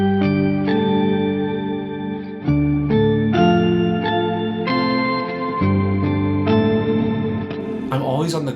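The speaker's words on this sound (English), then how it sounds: "I took out the rotary sound but I kept the reverb in," Electric guitar played through an effects pedal with reverb kept on and the rotary effect switched off, sustained keyboard-like chords changing every second or so, each ringing out with a lingering reverberant tail.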